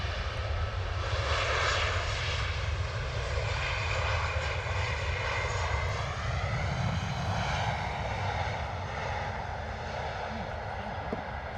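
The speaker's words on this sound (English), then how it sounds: "come on now Ryanair, bring it down. Beautiful, gorgeous arrival" A Ryanair airliner lands at London Stansted Airport, its engines roaring loudly and steadily throughout with a shifting whine and no talking.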